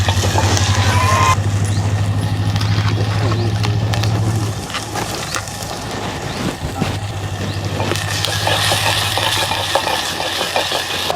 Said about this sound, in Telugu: ఇప్పుడు టమాటా వేస్తున్నా.